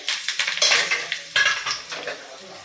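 Curry leaves hit hot tempering oil for dal after the gas is switched off, giving bursts of crackling sizzle with a few metallic clinks of a spoon against the pan, close and alone.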